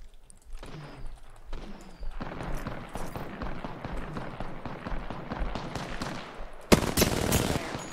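Rapid automatic gunfire in the battle royale game Apex Legends, sustained bursts of shots with footsteps and movement, ending in a loud close volley.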